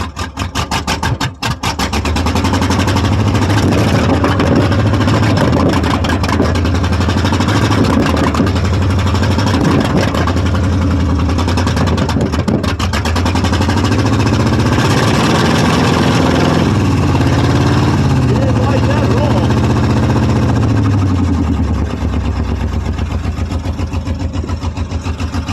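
A 1995 Ford F150 with the 5.8 liter V8, running with two dead cylinders, idles roughly after a cold start, a loud steady engine drone with an uneven low pulse throughout and no talk.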